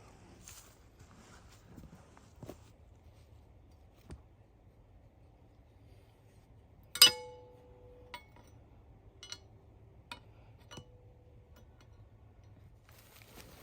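An MB550 foothold trap is set by hand at night, giving sparse, sharp metallic clicks and clinks, one louder snap standing out against near silence.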